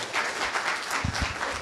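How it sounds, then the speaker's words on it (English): A short burst of audience applause at a cyber meetup, many hands clapping together in a brief, fairly close wash of sound. "Give another round of applause."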